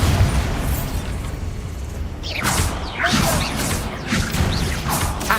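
Explosive spell blasts fired during combat in the Hogwarts Legacy video game: a run of sharp bursts and whooshing swishes with crashing impacts over a steady game backdrop, loud and close, with no talk.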